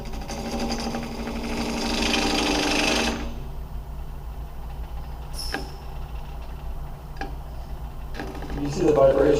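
A wood lathe hums steadily while a tool turns down a piece, the cutting noise swelling loudly for a few seconds before settling into the motor's drone, with a few sharp knocks and a voice talking over it.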